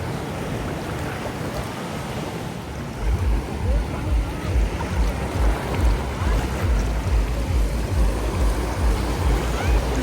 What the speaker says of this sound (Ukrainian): Але досить такі великі хвилі.